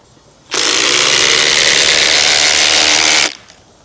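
A cordless impact driver from a Milwaukee versus DeWalt comparison runs in one loud, continuous burst of nearly three seconds, a dense buzzing rattle with a sharp start and stop.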